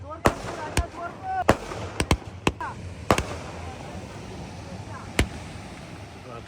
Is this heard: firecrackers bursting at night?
yes